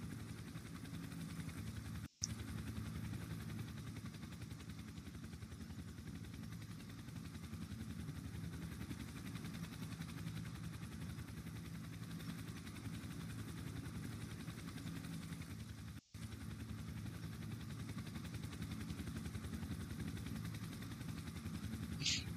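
A helicopter in a police patrol video game set in Winnipeg flies steadily throughout, its low, constant rotor and engine drone filling the scene at moderate level with no talk.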